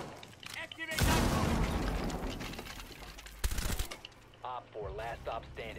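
Several loud bursts of video-game gunfire come in a short heavy volley and then a single sharp shot, with players talking over the action between and during the shots.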